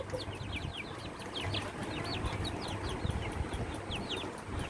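Australorp, hill and native chickens cluck and chirp in short repeated calls against a low background murmur, several birds close by.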